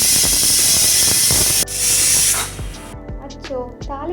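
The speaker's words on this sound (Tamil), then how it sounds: "குக்கரை க்ளோஸ் பண்ணிவிட்டு 2 விசில் விட்டுக்கலாம்" Pressure cooker venting steam while cooking home-style chicken curry, a loud continuous hissing whistle that cuts off, followed by softer sputtering and rattling near the stove.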